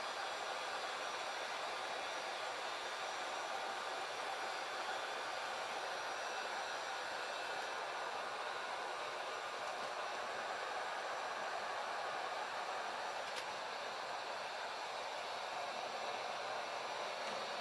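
A heat gun blows steadily while softening a C-stripe decal on a 1968 Mustang, a continuous even hiss of hot air at close range with no talking.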